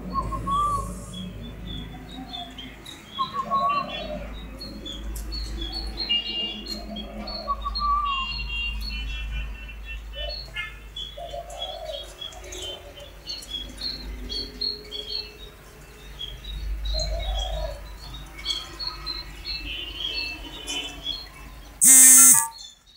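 Repeated short spotted dove decoy chirps and calls ring out over a steady low hum, with a brief loud burst near the end.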